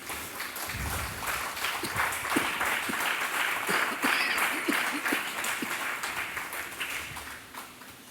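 A church congregation applauds during a sermon, with sustained, fairly close clapping that swells and then tapers, and a few voices mixed in beneath it.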